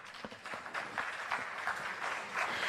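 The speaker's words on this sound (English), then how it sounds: "Can they have a round of applause, please?" An audience at a Europe-Uganda business forum applauds the panelists, scattered claps building into steadier, moderately quiet clapping that grows slightly fuller toward the end.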